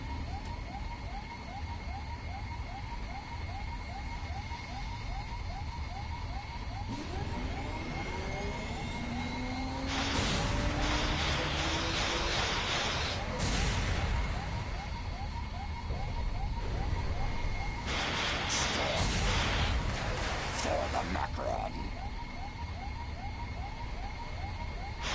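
Emergency vehicle sirens come through a police scanner, a wailing, sweeping tone that repeats steadily under hiss and static, with louder rushes of noise breaking in at intervals.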